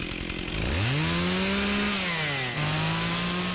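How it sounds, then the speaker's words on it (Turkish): A chainsaw revs up loudly in a horror game, its engine pitch climbing, holding, then dropping and settling into a steady whine, close and alone without talk. "O ne lan testere mi?"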